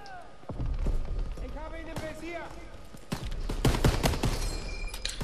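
Rapid gunfire crackles through a Call of Duty WWII campaign battle in bursts of sharp shots, with a lull between volleys and a louder flurry near the end, while a player talks excitedly over it.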